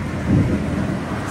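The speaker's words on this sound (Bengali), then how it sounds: "সাংঘাতিক মেঘ ডাকছে" A short, low rumble of thunder rolls through during heavy rain and strong wind, rising briefly before settling back into the steady patter of the storm.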